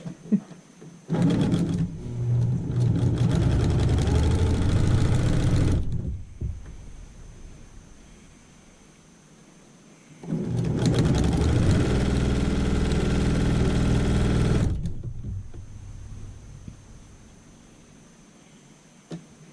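A sewing machine stitches a quarter-inch quilt seam for a chain link quilt, running in two loud, steady bursts of about four seconds each, with quiet pauses before, between and after.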